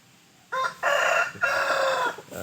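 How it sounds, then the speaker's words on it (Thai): A young Thai Pa Koi rooster, about seven to eight months old, crows once nearby, a loud drawn-out cock-a-doodle-doo in two strained phrases, with no other voices. "นี่พ่อไก่ครับ"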